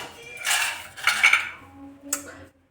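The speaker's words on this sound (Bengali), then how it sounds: "তো এই দেখুন, আমি কড়াই চাপিয়ে দিয়েছি" A metal wok is set down on a stove with a couple of close clanks and scraping rattles of cookware, followed by a final sharp clink in a quiet kitchen.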